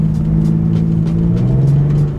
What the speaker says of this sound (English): I'm spinning going uphill in third gear.